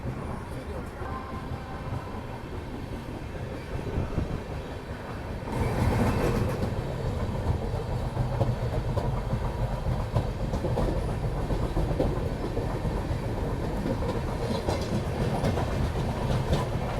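The Swarna Jayanti Rajdhani Express pulls out of Mahesana junction, a steady rolling rumble with clickety-clack of wagons that grows louder from about midway and holds, with faint speech in the background.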